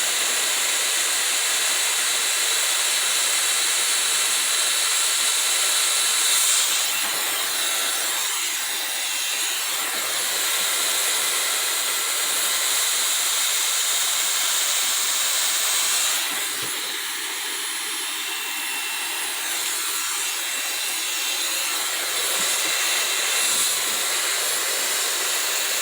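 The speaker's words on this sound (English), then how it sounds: "excuse the blow dry, the noise of the blow dry" A hair blow dryer runs continuously while drying hair, a loud, close, steady whooshing roar with slight dips in level as it moves, and no talking.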